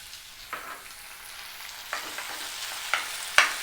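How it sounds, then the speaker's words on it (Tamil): Tomatoes frying in a pan for red capsicum chutney, a soft steady sizzle with a few spoon scrapes and clinks against the pan that grow louder toward the end, no talking. "தக்காளி கொஞ்சம் நல்லா வதங்கட்டும்."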